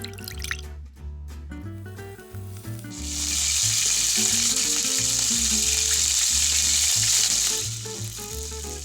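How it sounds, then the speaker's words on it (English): Loud, bright sizzling of eggs deep frying in hot oil in a miniature pan rises and holds steadily for several seconds, with background music playing underneath. "Deep frying eggs in a pan."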